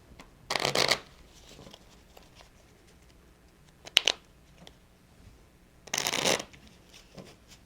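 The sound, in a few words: shuffling a new deck of playing cards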